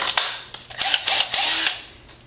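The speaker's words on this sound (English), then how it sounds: "let's grab the gun and let's get these screws in there" A power screw gun drives screws into a transducer mount in a few short, close whirring bursts that rise and stop abruptly, with brief gaps between them.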